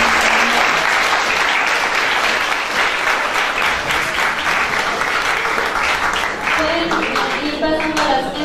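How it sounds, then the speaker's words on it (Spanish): Audience applauding after a conference lecture on intercultural bilingual education in Peru, steady dense clapping filling the whole stretch at close range, with a faint voice briefly audible beneath it. "Le damos de nuevo un fuerte aplauso."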